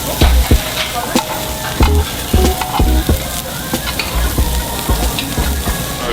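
Pork sizzling loudly on a Korean barbecue grill in Seoul, a steady close crackle of frying fat broken by repeated low thumps and clinks, heard with no talking.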